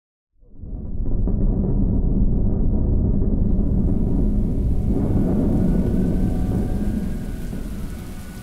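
A thunderstorm with steady heavy rain and rolling thunder, loud and continuous from start to end, swelling with a deeper rumble midway before easing slightly, close and alone with no voices.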